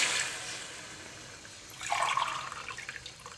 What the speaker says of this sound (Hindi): अब इसमें 3 गिलास में पानी डालने लगा हूँ